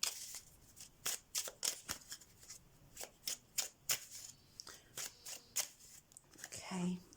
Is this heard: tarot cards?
yes